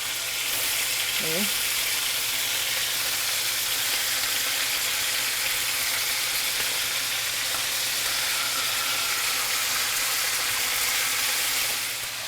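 Chicken pieces with lemon and herbs frying in a pan, giving a steady, loud, broadband sizzle that holds throughout, with a brief spoken word near the start.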